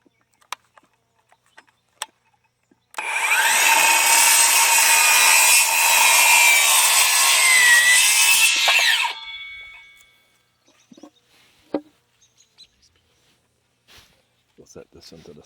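A power saw bites into a wooden Langstroth bee frame held in a jig, giving a loud, shrill, steady whine for about six seconds that winds down at the end, framed by scattered clicks, handling knocks and talk before and after.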